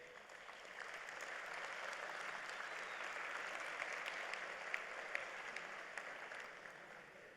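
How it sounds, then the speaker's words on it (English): Steady round of applause from graduates and guests at a university commencement ceremony, a broad, even wash of clapping that sounds somewhat distant and holds throughout without a break. "Let us share another round of applause for the great accomplishments today"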